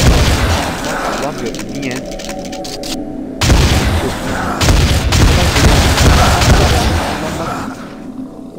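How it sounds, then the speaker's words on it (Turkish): Heavy booms and gunfire from the zombie shooter video game Dead Target, loud and repeated, with bursts of rapid fire, a brief cutout near the middle, and someone talking over the action. "Daha rahat bir bomba vesaire atabilirim."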